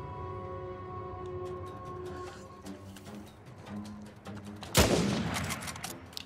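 Gunfire in the video game Uncharted 4, with a sharp, loud close burst near the end cutting through a busy mix of tonal music and scattered smaller shots.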